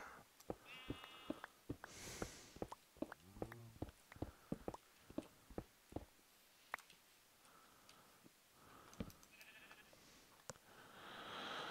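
Sheep bleat in Minecraft 1.18.1 amid a string of short, sharp clicks and ticks, with a few wavering bleats spread across a quiet background.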